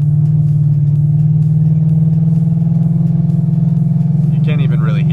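A car fitted with a 3600 stall torque converter pulls away and accelerates, its engine holding a loud, steady low drone throughout with a brief rise in tone near the end, while a person talks over it.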